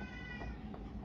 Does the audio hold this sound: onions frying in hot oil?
no